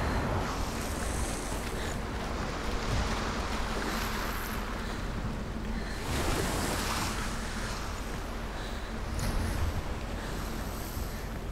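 Waves wash and surge continuously around a shoreline in the video game Hellblade, a steady broadband roar of surf with gusty, wind-like swells rising and falling over the whole stretch, no voices present.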